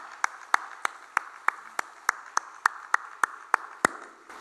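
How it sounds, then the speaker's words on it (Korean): A single person claps steadily and evenly during a Sunday church service, about a dozen sharp claps in a regular rhythm, fairly close, with no voices over them. "우리 뜨겁게 다 같이 박수를 보내드리겠습니다"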